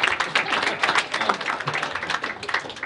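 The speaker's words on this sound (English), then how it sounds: "So let's give them a round of applause for making it to the next level." Conference audience at a waterfront coastal engineering panel gives a brief burst of clapping, dense and fairly loud, lasting just a few seconds.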